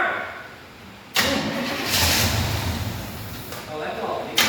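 A 1939 Chevy Coupe engine is cranked, catches abruptly and roars into a loud, rough idle that surges briefly before settling, heard up close.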